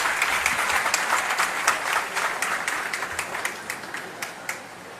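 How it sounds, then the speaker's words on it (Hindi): An audience at a government event in Chhattisgarh claps for young people receiving self-employment offer letters. The dense applause gradually thins into a few louder scattered claps. "सबके लिए तालियां बजा दीजिए आप यहां से"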